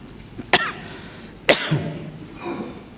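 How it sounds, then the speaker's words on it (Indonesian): Dry coughs from a man, two sharp close bursts about a second apart, followed by a softer throat sound, in an otherwise quiet room. "Mohon maaf ini bekas-bekas puasa, ini batuk kering ini."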